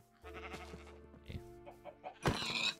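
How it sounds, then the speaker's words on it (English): Sheep in a video game giving a few short bleats, faint and spaced out, ending in a louder, brighter cry near the end. "I'm gonna kill the sheep as well"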